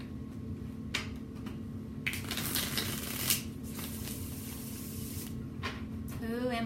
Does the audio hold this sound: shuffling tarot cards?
yes